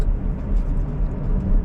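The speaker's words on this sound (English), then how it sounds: "I'm actually driving up Flatbush Avenue for a little while." A car drives up Flatbush Avenue in Brooklyn, heard from inside as a steady low road rumble and engine hum with light traffic noise, continuous and moderately loud.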